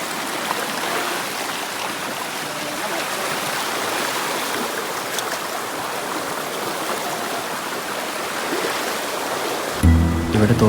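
A forest stream on the Sabarimala pilgrimage trail runs high with water, giving a steady, dense rush of flowing water that fills the whole stretch at an even level, with a brief louder disturbance near the end.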